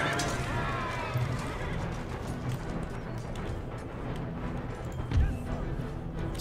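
Horses neighing and hooves thudding amid battle noise in the Empire Total War strategy game, a dense, busy mix running throughout with a brief louder thump near the end.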